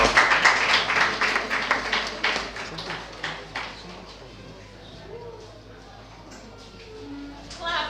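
At a spoken word poetry event in Lagos, an audience applauds a poet with scattered, moderately loud clapping that starts brisk, then thins and fades into quieter room noise, with someone speaking briefly.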